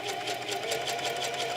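Sewing machine stitching fabric for a small drawstring bag, a fast, even mechanical chatter running close and steady without pause.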